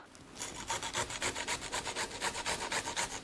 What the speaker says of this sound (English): That's why I'm going to use a grater.